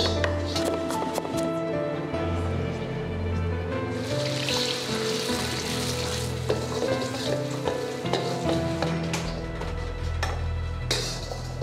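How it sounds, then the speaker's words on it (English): Crab meat quick-fried for fried rice during a cooking competition, with a steady close sizzle and stirring clatter running throughout over a background hum. "Quick frying can maintain the texture of the crab meat"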